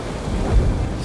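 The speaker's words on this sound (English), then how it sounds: "In mid-April, an epic storm rages for 6 straight days." A thunderstorm with heavy rain hisses steadily while a low thunder rumble swells and fades briefly, dense and close, with no voices.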